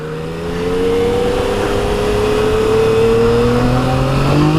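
A 2015 Yamaha FJ-09 motorcycle in its aggressive A mode accelerating hard, engine note climbing steadily and loudly through the revs, close and continuous with no talking.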